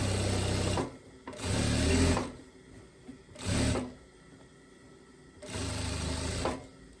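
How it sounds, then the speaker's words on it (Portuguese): A sewing machine stitches binding along a blouse neckline in three short bursts of fast whirring, each lasting about a second, separated by quiet pauses. "vou começar a costurar em cima dele aqui"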